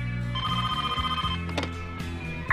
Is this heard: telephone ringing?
yes